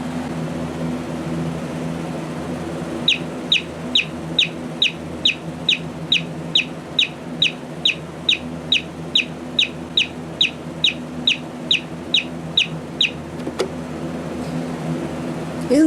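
A rapid series of about twenty short, high-pitched electronic chirps from a Simpsons-Sears clock radio alarm repeats steadily for ten seconds, then stops, over a low background hum.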